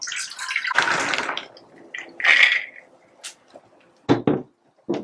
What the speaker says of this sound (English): I'll pour it directly into this pot